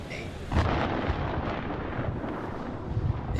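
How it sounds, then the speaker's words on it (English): A long low rumble of thunder from a storm in the video game Man of Medan rolls on after a sudden onset, heavy and sustained with no talking over it. "The storm's 8 miles away."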